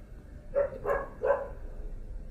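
A dog barks three times in quick succession at moderate distance, short sharp yaps spaced about a third of a second apart, standing alone with no talk over them.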